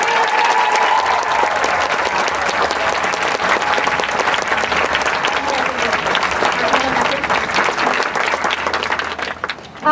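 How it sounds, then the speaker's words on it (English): Sustained audience applause fills a school concert hall as senior choir students are recognized, dense clapping with scattered voices and cheers mixed in for nearly ten seconds. "Take a picture of them and clap for them."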